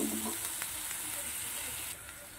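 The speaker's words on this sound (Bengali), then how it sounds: "তারপর পেঁয়াজ বাটাচ্ছি, পেঁয়াজ বাটাটা দিয়ে দিচ্ছি। সেগুলো আমি ভেজে নেবো।" Onion paste fries in oil left over from frying fish, making a soft, steady hiss and sizzle that dips slightly in level toward the end, with a faint brief voice at the start.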